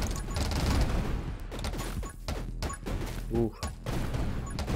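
Bombs going off in the video game 20 Minutes Till Dawn, a string of short bursts and cracks layered over busy game effects and a steady hum, with a brief exclamation from a voice.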